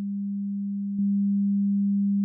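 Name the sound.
sine wave tone summed with duplicate, doubled amplitude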